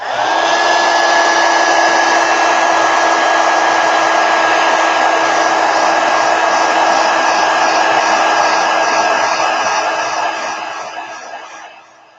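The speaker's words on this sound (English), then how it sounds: "I'm going to hit it with a heat gun real quick and then put something over it so I don't" A heat gun blows over a wet abstract painting, producing a loud, steady rushing hum with a fixed whine that holds for about ten seconds, then fades as it winds down, with no speech.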